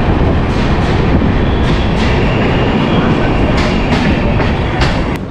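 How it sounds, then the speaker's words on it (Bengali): The 13152 Jammu Tawi Kolkata Express rolls into a station platform with a loud, continuous rumble of wheels and carriages and faint rhythmic clacks, heard close by and without talk. "আর এই স্টেশনে 2 নম্বর প্ল্যাটফর্মে এসে দাঁড়ালো আমাদের ট্রেন।"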